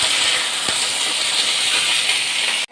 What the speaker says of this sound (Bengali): এখন চিলি পাতা বড়া করেছি ভাজতে ভাজতে অর্ধেক শেষ